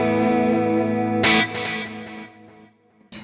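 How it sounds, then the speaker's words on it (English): A Boss SDE-3 delay pedal adds repeats to a guitar note, echoes trailing off and growing duller as the high cut darkens each pass, ending with a fresh pluck at the close. "you can hear just as the delays are fading out, they get darker"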